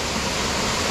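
A waterfall at the start of Table Rock Trail on a chilly March day pours with a loud, steady broadband rush, unbroken throughout.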